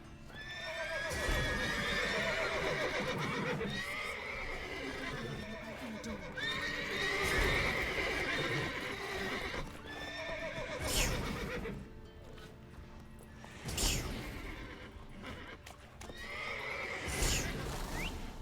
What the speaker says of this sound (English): these horses are so unhappy they're glitching